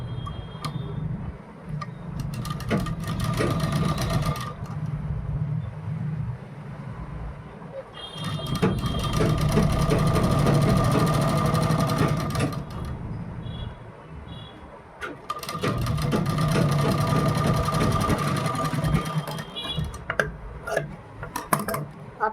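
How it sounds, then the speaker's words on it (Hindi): A sewing machine stitching the collar of a kurti runs in two long steady bursts of rapid mechanical ticking and whirring, with pauses of quieter handling noise between them. "इस पर हम सिलाई लगाएंगे"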